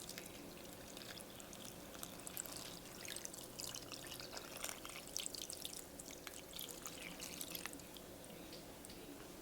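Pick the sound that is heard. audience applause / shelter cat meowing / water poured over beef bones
water poured over beef bones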